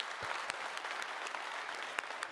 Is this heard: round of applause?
yes